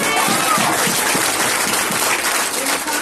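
A church congregation claps loudly and continuously during an energetic Filipino worship service, the dense clapping blending with crowd noise and a few voices at close range.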